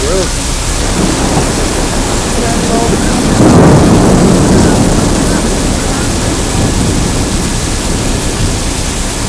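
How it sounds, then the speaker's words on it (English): Heavy summer rain pours down in New York during a July thunderstorm, a dense, loud roar of rainfall with a deep rumble of thunder swelling midway and fading back into the downpour. "more thunder and then this is over"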